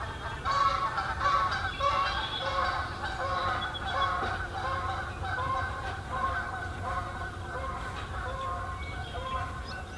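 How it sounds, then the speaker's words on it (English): Geese by a pond honk repeatedly in an overlapping, clamorous chorus, fairly close and steady throughout, with a low background rumble. "A lot of geese out."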